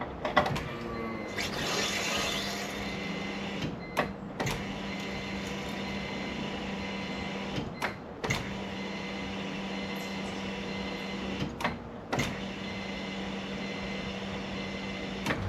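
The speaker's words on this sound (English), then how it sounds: "we will turn the pump on that way and let it run for a little while." An electric fuel pump runs on a turbo Honda Civic, a low steady hum throughout, broken by a few sharp clicks and a short rising whir near the start, fairly faint and with no talking.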